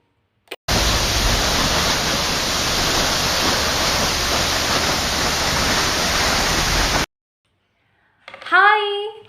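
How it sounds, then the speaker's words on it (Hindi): A waterfall roars as a steady, even rush of white water that starts and stops abruptly, followed by silence and a brief voice speaking. "तब तक आप उस वाटरफॉल को देखिए, महसूस कीजिए"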